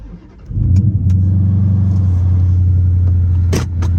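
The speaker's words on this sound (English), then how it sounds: "I made my whole neighborhood upset with starting my vehicle like that" A car engine cranks and catches, then settles into a loud, steady, close rumble with a slight rev, heard alone.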